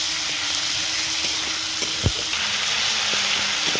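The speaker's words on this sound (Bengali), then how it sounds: "মশলাটা ভালো করে কষে নেব।" A spice paste of green chilli, tomato, salt, turmeric, red chilli powder and ginger-garlic paste fries in a pan with a dense, steady sizzle, close and loud, plus a few light clicks and one dull knock from a utensil.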